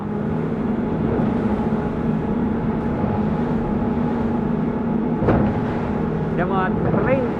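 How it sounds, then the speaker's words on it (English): Steady engine drone of a Swan Shadow motorboat at 30 knots cutting through high waves, with broad rushing water noise throughout, a sharp splash slapping partway, and brief squealing tones near the end. "There is a strong wave at the bow, yet it cuts through it smoothly."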